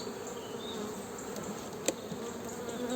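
Honeybees buzz around a mini-plus beehive, a steady close hum of many wings with a faint knock partway through.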